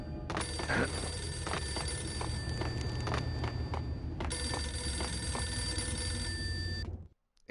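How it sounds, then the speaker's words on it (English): A telephone rings insistently in the Max Payne video game, its bright bell tone repeating over a steady low background rumble and stopping abruptly near the end. "Answer the phone, Max."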